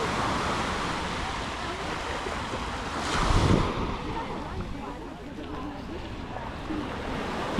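Surf rolls in steadily at Samae Beach, Koh Lan, a constant wash of ocean waves with gusting wind noise and a louder swell around the middle, distant voices faintly beneath.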